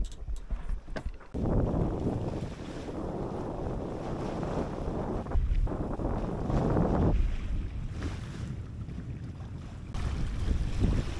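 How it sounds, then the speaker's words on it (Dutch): Wind rushing over open water in the doldrums, with gusty buffeting against the microphone and the wash of waves around a moving boat. "Oh, lekker, we hebben even wat wind."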